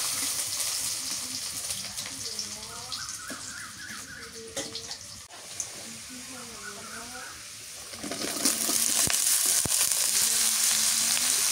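Onions frying in mustard oil in a pan give a steady close sizzle, with a louder, brighter hiss swelling near the end, and a voice speaks over it in the middle stretch.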